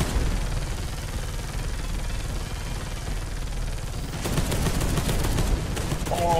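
Gunfire in Space Hulk Deathwing, a loud unbroken fusillade of automatic weapons that turns into sharper, rapid machine-gun bursts toward the end, close and dense.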